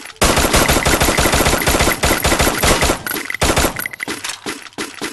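Rapid automatic gunfire from a video game shooter, loud and close, with fast continuous bursts for about three seconds followed by sparser, uneven shots.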